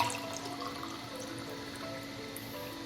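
Hot water being poured for drinking in a home kitchen early in the morning, a steady liquid stream with a constant hum underneath, even and continuous at close range with no talk.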